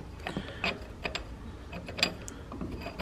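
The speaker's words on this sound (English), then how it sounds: "so this unscrews from the base plate there" Metal parts of a Hornady Lock-N-Load AP reloading press are unscrewed from the base plate, producing scattered small clicks, ratchety ticks and scrapes close by.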